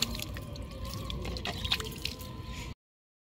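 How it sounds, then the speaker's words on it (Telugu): Water poured over sand in a pot where sugarcane pieces are planted, giving a steady close splashing and dripping trickle for about three seconds before stopping abruptly. "ఇప్పుడు వాటరింగ్ అయితే చేసుకుందాం."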